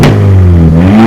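A VW Golf R engine revs hard up to its soft limiter and holds there, one sustained loud engine note that stays close and steady for about a second.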